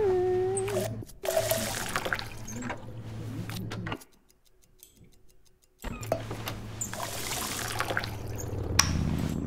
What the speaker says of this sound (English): Load up our cups with water